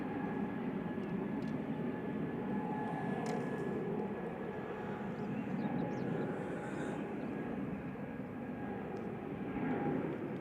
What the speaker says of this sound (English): This is BA heading back to London Heathrow, A320 200 Neo GTTN